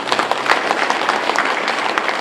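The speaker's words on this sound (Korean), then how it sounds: "큰 박수 부탁드립니다" An audience at a Korean book launch event applauds with dense, continuous clapping. The applause holds at a steady, lively level the whole time.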